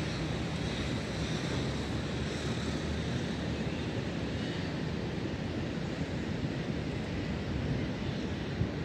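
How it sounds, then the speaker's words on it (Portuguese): Steady surf washes onto the beach at Praia do Tupi in Praia Grande, a continuous broadband roar with wind buffeting the microphone and no distinct breaks between waves. "Praia do Tupi."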